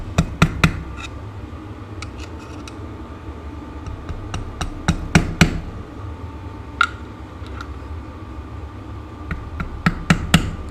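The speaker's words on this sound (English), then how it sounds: "I know I'm using a mallet where I should be using a hammer" A mallet taps repeatedly on a Honda VFR 750 motorcycle carburettor during a strip-down, giving sharp, close knocks in small irregular clusters with short pauses between them.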